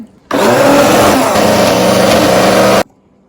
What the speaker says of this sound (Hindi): मैंने 1 कप मैंगो लिया है, इसको मैंने ग्राइंड करना है